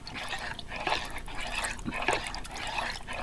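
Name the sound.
stirring playdough mixture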